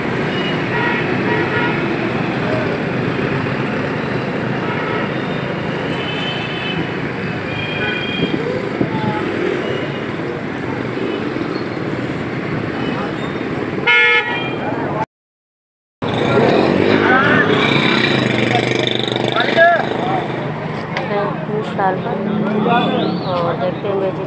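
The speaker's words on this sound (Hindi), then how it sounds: "शोर है बहुत ज़्यादा गाड़ियों का" Dense city street traffic in Pakistan during preparations for 14 August, with many vehicles forming a steady, loud roar and occasional horn-like tones. Voices mix in throughout, and the sound cuts out briefly partway through.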